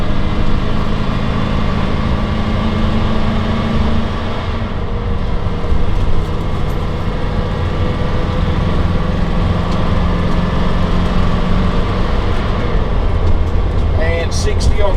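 Steady, loud engine drone and road rumble inside a 2004 Winnebago Adventurer 35U Class A motorhome as it accelerates toward highway speed, with someone talking over the noise.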